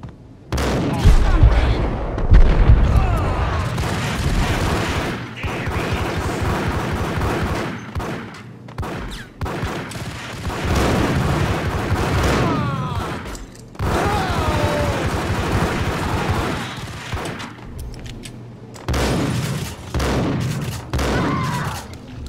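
Sustained gunfire from a shootout in the video game Max Payne, dense overlapping shots and bursts for about twenty seconds, loud and close with brief gaps and faint voices in the mix.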